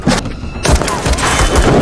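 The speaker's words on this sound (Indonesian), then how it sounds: "terjadilah baku tembak Eric dengan Chloe, dan berakhir Chloe tewas ditembak oleh Eric" A film shootout with a loud, close volley of gunshots, several sharp overlapping bangs in quick succession over a dense, noisy backdrop, without speech.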